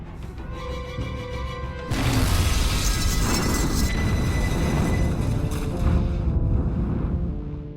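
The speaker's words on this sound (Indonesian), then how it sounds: "bom itu meledak" In a Donnie Yen gangster action film, quiet mechanical background is abruptly broken by a bomb's loud, booming blast that lingers as a roaring, crackling rumble before slowly fading.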